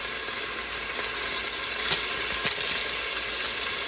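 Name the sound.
biryani paste and spice mix sizzling in pressure cooker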